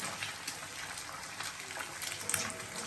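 Hands are washed under a running kitchen tap, a soft continuous splashing gush of water with small irregular spatters, fairly quiet and close, without speech.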